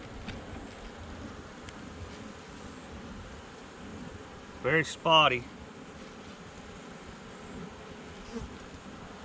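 Honey bees in a weak, thinly populated hive with a poorly laying queen give off a steady, soft buzz throughout, while a voice speaks briefly in the middle.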